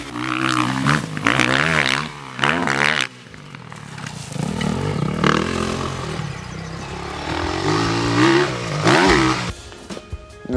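Motocross motorcycle engine roaring and revving through a corner, loud and close with rising and falling pitch as the rider accelerates hard out of the turn.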